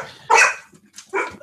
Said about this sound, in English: Oh, great! The dog.